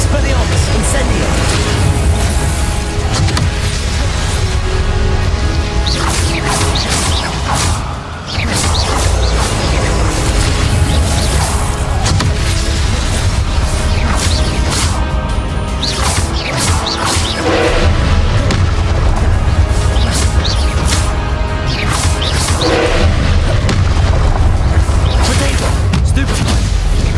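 Spell blasts and explosions from the video game Hogwarts Legacy, a dense, continuous barrage of loud crashes and booms with heavy score and effects throughout, a voice calling out spell names over the top.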